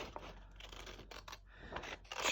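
Scissors slice through glossy magazine paper in a few quick snipping and rustling strokes, close and fairly quiet, with no talking.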